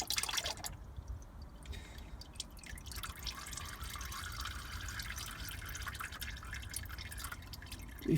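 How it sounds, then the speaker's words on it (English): Engine oil drips slowly from a bottle into an oil filter being filled to the brim, a close series of small liquid drips and trickles over quiet background noise, with no talking. "I just do it slowly because it will drip like that."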